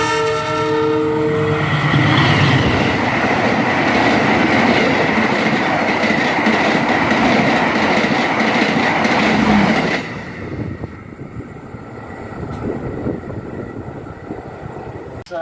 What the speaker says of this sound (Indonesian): So kita tunggu aja kereta api Gajayananya akan melesat di sini teman-teman